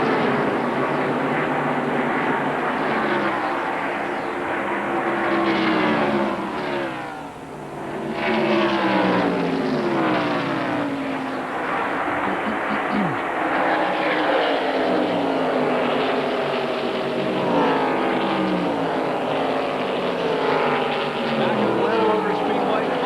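NASCAR Busch Grand National stock cars roar around the Atlanta track, including a Chevy Monte Carlo heading onto pit road. Engines whine and sweep past loudly with Doppler pitch shifts, dipping briefly midway, under the race commentary.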